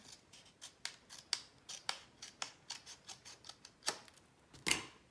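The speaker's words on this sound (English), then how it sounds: "I'll give it a cleaner trim here" Scissors snip through card paper while trimming a shaker card, a quick run of crisp, close cuts that are sometimes uneven, with two louder snips near the end and no voices.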